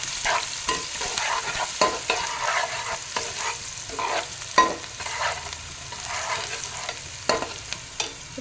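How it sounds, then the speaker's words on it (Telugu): Onion pieces frying and being stirred in a pan for mutton paya curry, with a steady close sizzle broken by repeated scraping strokes and clinks of a spoon. "ఉల్లిపాయ ముక్కలు మంచిగా బ్రౌన్ కలర్ వచ్చే వరకు వేయించుకోవాలి"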